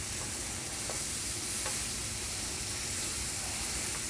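Steady loud sizzling and hissing of tomatoes and spices frying in a hot pan for egg bhurji, continuous with faint stirring scrapes and no talk.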